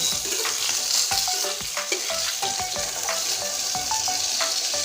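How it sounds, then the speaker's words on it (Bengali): A rohu fish head fries in hot oil with a close, continuous crackling sizzle, and sharp spits and pops scatter through it with no voices present. "দেখুন একদম মোটমুটি করে লাল করে ভেজেছি এই তেলের ভিতরে"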